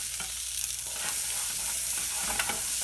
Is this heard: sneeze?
no